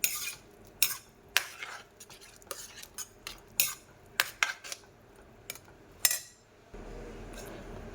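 A spoon stirring lauki kofta curry with yogurt in a pan, giving a series of sharp metallic scrapes and clinks against the pan at irregular intervals, fairly close and clear, then a soft steady hiss at the end.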